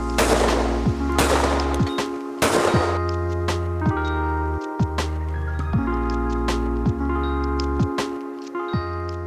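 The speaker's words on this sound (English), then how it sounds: "Let's finish off on this stand with the Winchester 5500." Repeated shotgun shots from a Winchester 5500 Sporter on a clay shooting stand, several loud sharp reports spaced a second or two apart, each followed by a short ringing decay.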